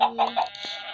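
A chicken in the Minecraft video game clucks in a few short, close bursts, with a voice talking over it.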